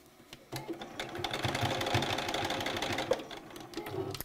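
Domestic sewing machine back stitching a fabric face mask, a steady close whirring run of needle strokes lasting several seconds after a brief pause, with no talking.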